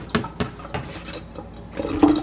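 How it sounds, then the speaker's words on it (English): Water from a bean sprouting tray is tipped out into a sink in a few irregular splashes and drips, ending in a louder gush of pouring liquid close by. "empty out our water tray"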